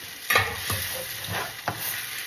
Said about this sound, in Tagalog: Tapos, ilagay na natin itong egg.